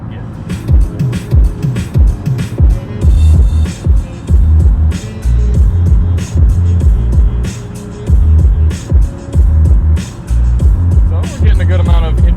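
Bass-heavy music blasts through the Bowers & Wilkins sound system inside a 2020 McLaren 570S, with deep thumping low beats pounding loud and steady at full bass throughout.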